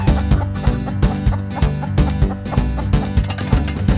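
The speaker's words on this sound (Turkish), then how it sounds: "Bahçedeki kümeste bembeyaz bir tavuk var Gıt gıt gıt gıt gıt gıt der" A children's song about a white hen in a garden coop carries a hen's clucking over a bouncy musical backing, the clucks rising in short bursts above a steady beat.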